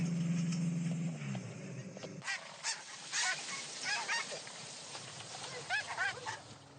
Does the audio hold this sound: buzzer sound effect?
no